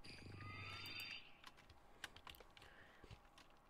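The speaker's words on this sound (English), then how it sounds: "Do you enjoy the clickety sound of my keyboard while I play?" Rapid clicking of a computer keyboard during game play, quiet and close, with a denser burst of keystrokes at first and then scattered individual clicks.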